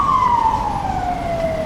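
A police car siren sounds on a Lisbon street, a single sustained wail gliding slowly downward, moderately loud and not piercing, over steady traffic and city background noise.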